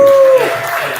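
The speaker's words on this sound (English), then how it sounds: "Give him a round of applause." An audience applauds a kayak fishing award winner on stage at a live award show, with a brief whistle-like tone at the start, then a short burst of mixed clapping and crowd noise, fairly loud and close.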